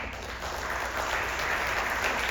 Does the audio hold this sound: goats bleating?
no